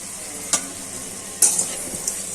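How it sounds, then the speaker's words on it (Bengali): Small shrimp with turmeric and salt fried in a pan, a soft continuous sizzle broken by a few sharp scraping stirs from a spatula, close and moderately quiet. "নেড়ে চেড়ে মাছটা একটু ভালো করে কষিয়ে নিই।"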